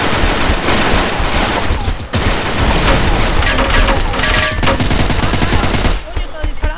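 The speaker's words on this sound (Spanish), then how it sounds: "está disparando" Rapid bursts of video game gunfire and machine-gun fire crackle continuously and loudly. Players talk and shout over the shooting.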